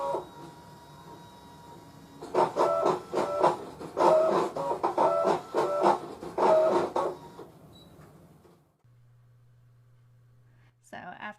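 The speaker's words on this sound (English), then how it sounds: "loaded it in my machine and cut it out." A Brother DC200 DesignNCut home cutting machine works through card with several short, rhythmic bursts of motor whir and blade movement, then goes quiet apart from a faint low hum.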